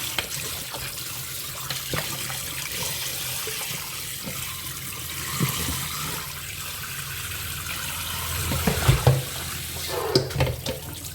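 Catfish is rinsed under a running kitchen tap, a steady stream of water with intermittent splashes and sloshing as the fish is handled, with no talk.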